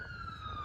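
Faint, distant siren of a passing ambulance or police car in a small Tennessee town, a steady high wailing tone gliding slightly downward over a low background hum.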